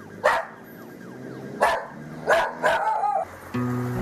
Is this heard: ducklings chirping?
no